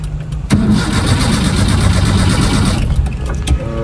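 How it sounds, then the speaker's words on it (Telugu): A van engine starting after sitting unused for many days: a short starter crank, then the engine catches and settles into a loud, steady idle close by, alone without talk. "వ్యాన్ స్టార్ట్ అవుతులే అబ్బా"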